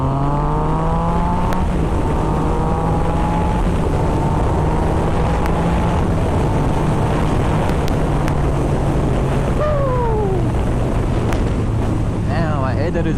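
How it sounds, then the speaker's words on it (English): Steady, heavy wind buffeting the microphone while riding a 2016 Yamaha FZ-09/MT-09 motorcycle, a dense low rumble throughout with faint engine tones and passing whines underneath. "there's a lot of wind noise"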